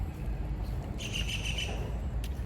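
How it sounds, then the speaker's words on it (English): Tropical birds in Vietnam chirp with a short run of bright, high calls in the middle and a brief sharp note near the end, set against a steady outdoor background with no talking. "beautiful tropical looking birds here in Vietnam"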